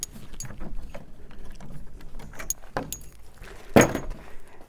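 Metal pins are pulled from the back of a homemade kayak and utility trailer, giving close metallic clinks, scrapes and rattles with a sharper clank near the end.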